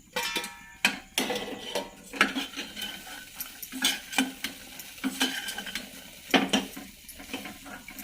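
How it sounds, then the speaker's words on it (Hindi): Chickpeas fried in a pan with fried chili and garlic, a spoon clanking and scraping against the metal in irregular strokes over a gentle sizzle, close and moderately loud with no talking. "तापरे हमें जे फ्राई कर रखी थी मिर्चा और लहसुन सेटा के भी ऐड कर देमा"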